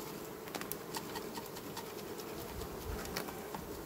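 Honey bees from a hive colony drone in a steady, dense buzz while being shaken with powdered sugar for a varroa mite test, a continuous close hum with faint scratchy patter and no talking.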